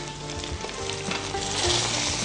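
Green chillies, seasoning seeds and curry leaves sizzle steadily in hot oil for allam charu, a continuous close crackling fry that swells slightly toward the end, with no voices.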